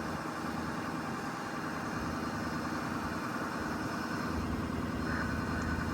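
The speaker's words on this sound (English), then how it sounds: "Engine sounds great." Ford F550 bucket truck's 6.7-liter diesel engine idling with 82k miles, a steady low rumble with an even vibrating hum, moderately close and with no one speaking.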